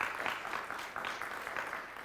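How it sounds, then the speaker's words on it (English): A studio audience at a scholastic quiz bowl match claps for a winning team, a soft, steady patter of applause heard fairly faint and at a distance. "Let's have a round of applause for them."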